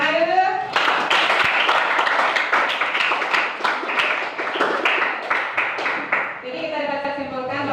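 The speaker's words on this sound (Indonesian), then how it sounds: "Oke, tepuk tangan dulu." A classroom of students claps their hands together in a dense, steady burst of applause lasting several seconds, then a teacher's voice resumes talking as the clapping stops.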